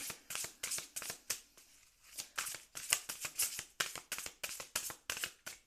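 Tarot cards are shuffled in quick, rhythmic bursts of riffling and slapping, close up and fairly soft, with a short pause partway through.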